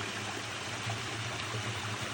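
Steady flowing water from a stream near a stone house and hydroelectric turbine, a continuous broadband rush and trickle that holds even and close throughout with no voices.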